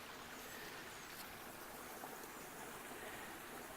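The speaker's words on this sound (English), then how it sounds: "we have quite the river coming down through here today" A steady broadband rush of a rain-swollen river flowing, constant and fairly faint, with no voices.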